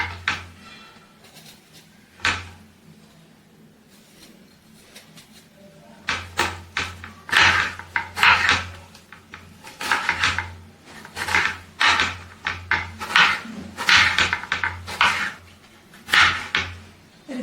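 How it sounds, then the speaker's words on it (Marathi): A knife chops large tomatoes on a board for a cashew gravy masala, making irregular bursts of sharp, rapid knocks with short pauses between them. "मोठा मोठा टोमॅटो देखील चिरून घ्यायचा आहे"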